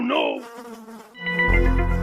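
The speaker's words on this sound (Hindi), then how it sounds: "भगाओ मधुमक्खी को, मुझे बहुत डर लगता है।" A cartoon bee buzzes in a classroom scene, a close, steady insect drone that swells after a brief tonal sweep at the start.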